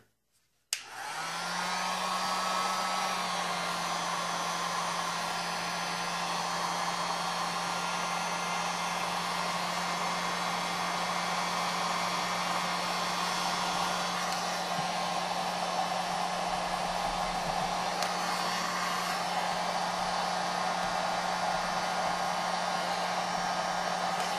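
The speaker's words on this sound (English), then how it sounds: "it's just a generic heat gun." A generic electric heat gun blows a steady, loud whoosh with a constant motor hum, running unbroken for the whole span as it shrinks and tightens material on a tree installation; no one speaks.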